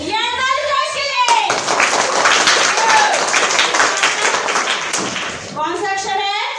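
Audience clapping at a block-level Rangotsav competition in Narharpur, loud and close. The applause begins abruptly after a voice, continues as dense claps for about four seconds, then fades as a voice resumes.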